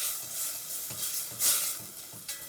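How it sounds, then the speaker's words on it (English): White wine poured into a hot pan with chopped capers, bursting into a hissing sizzle that swells briefly, then settles into gentle bubbling, close and alone. "I'm going to go ahead and add my white wine"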